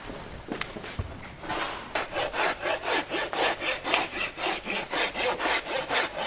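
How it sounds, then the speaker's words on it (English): A farrier's rasp tidying a horse hoof: after a few scattered scrapes, a steady run of rhythmic rasping strokes, about two per second, close and loud with no talking. "We're just going to take the rasp now and tidy that up."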